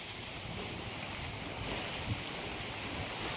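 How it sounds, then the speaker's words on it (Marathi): Water pours over the full Bhandardara dam in a steady, broad roar, constant and unbroken, with wind buffeting the microphone. "पाणी पण उलटून चाललेलं आहे."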